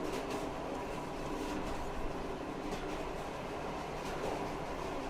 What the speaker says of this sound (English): This is one long ass train.